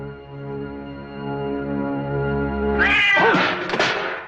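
A cat yowling in a horror movie cat scare, a long drawn-out loud caterwaul that builds, then breaks into a harsher screeching burst near the end.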